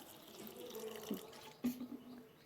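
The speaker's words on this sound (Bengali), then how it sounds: "প্রথমে আমি বাটিতে গরম জল দিলাম" Hot water poured into a bowl in a home kitchen, a soft, close trickle and splash with a brief louder slosh near the end.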